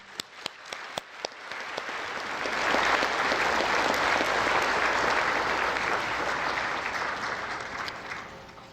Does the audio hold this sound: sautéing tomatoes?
no